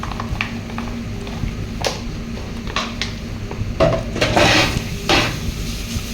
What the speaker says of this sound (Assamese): বহুত আছে, একদম ধুয়ে আছোঁ বাচনখিনি।